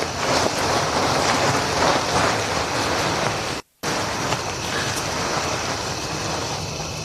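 Wind buffets a microphone outdoors in a loud, steady roar that fills the whole clip, broken by one brief drop to silence partway through.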